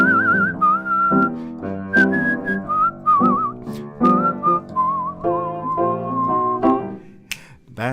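A person whistles a clear, wavering melody in close, bright phrases that rise and fall over about eight seconds, with no other sound competing.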